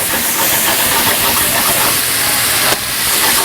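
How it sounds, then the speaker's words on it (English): Salad dressing poured into a hot salmon pan hisses in a loud, steady burst of steam that holds close for several seconds. "Dressing that I had from our salad, I'm just going to tip a little to just deglaze our pan."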